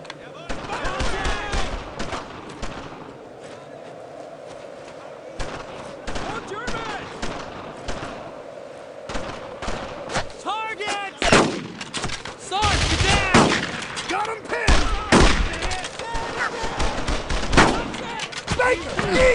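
Soldiers in the World War II shooter Brothers in Arms: Road to Hill 30 fire rifles and machine guns in dense, repeated bursts of gunfire, rising louder toward the end, with shouted voices mixed in.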